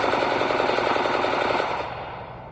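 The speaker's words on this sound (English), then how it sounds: "Gunshots." A rapid burst of gunfire, loud and close, the shots running together like a machine gun before the sound fades away over the last second, with no voices.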